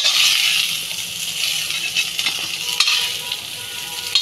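Sliced bitter gourd sizzles steadily in hot oil in a pan, a loud, close, continuous frying hiss broken by scrapes and clinks of a spatula stirring, with no talk.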